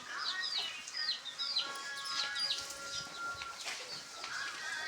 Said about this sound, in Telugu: ఇవి వచ్చేసి మా కోళ్ళు